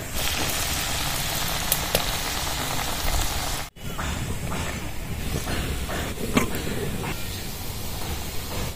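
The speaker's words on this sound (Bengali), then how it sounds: "এইভাবে বিস্কুটগুলো ভেজে নেব।" Flour biscuits frying in hot oil, a steady dense sizzle that fills the whole stretch with a brief break midway, close and continuous with occasional crackles.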